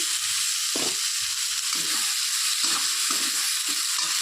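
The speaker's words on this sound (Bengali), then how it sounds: "মশলাটা প্রায় ভাজা ভাজা হয়ে এসছে" Spice masala for a paneer and cauliflower curry fries in oil with a continuous bright hiss and sizzle, broken by a few soft low knocks from stirring.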